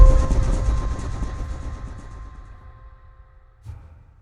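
A running train used as a sound effect in a spooky story set around Sealdah station: a loud rumbling, rattling roll that steadily fades into the distance, ending with a faint thump.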